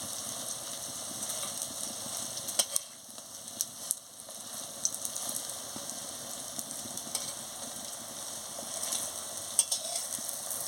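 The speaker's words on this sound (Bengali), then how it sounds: "এই যে দেখুন, লাল লাল করে ভেজে নিচ্ছি।" Drumstick flower fritters frying in hot oil, giving a soft continuous sizzle with occasional light clicks and scrapes of a spatula, fairly quiet and steady throughout.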